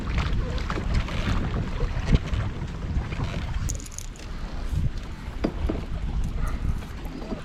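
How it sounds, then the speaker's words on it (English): Steady wind buffeting a microphone at a grassy lakeshore while fishing, with a constant broadband rush and gusty low rumble throughout, plus faint lapping and small knocks, no talk. "We got the wind blowing into the shore."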